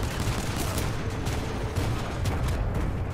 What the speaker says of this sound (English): Cooper, we can't move up while those guns are firing